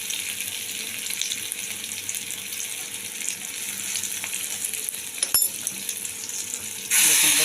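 Steady, loud sizzling of chilli, garlic and spices frying in hot oil, continuous throughout, with a brief clink and a louder hiss near the end.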